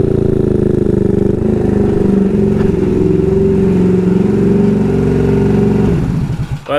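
A GY6-powered Honda Ruckus scooter runs at a steady, loud, droning engine pitch while riding, with wind rumble throughout, then the engine note drops and winds down near the end.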